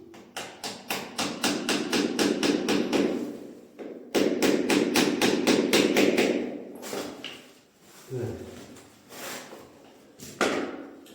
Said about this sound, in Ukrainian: Використовую викрутку, щоб забити сам шуруп.